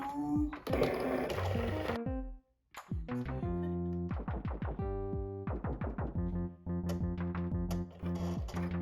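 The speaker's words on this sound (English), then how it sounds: "We're just gonna let Cricut cut that out too, and then unmount it." A Cricut cutting machine slices puff vinyl, giving a steady mechanical whir broken by rapid stepping bursts and carriage movements, close and fairly loud with a short pause early on.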